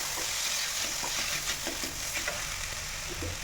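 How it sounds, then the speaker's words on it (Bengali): Green coriander paste for a chutney is stirred and fried in a pan, giving a soft, continuous sizzle broken by the scraping of a spoon. "দিয়ে নেড়ে ভেজে নেব।"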